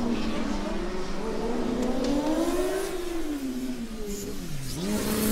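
Formula Student race car on a historic autocross track, engine note rising and falling steadily as it accelerates and slows through corners, heard at moderate distance under continuous commentary talk.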